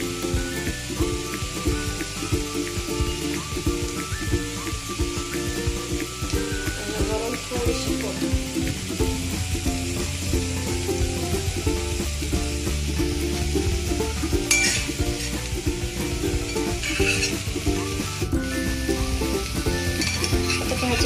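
Cabbage bhaji with ground peanut powder sizzles loudly in a pan, a continuous dense crackle broken by scraping stirring strokes and a few sharper clicks near the end.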